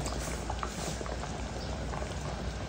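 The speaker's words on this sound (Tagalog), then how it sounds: "So, hayaan lang natin yung kumulo." Sopas soup bubbles at a steady boil in a pot, a dense continuous burble of popping bubbles, close and even, with no voices.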